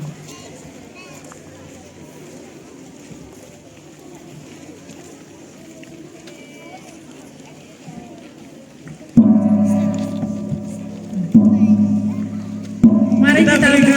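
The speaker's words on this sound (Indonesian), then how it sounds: "suster akan memukul gong 3 kali" A gong is struck three times at a school's opening ceremony for National Bible Month; after a stretch of murmured speech and room noise, three loud resonant strikes ring out, each sustaining a humming tone.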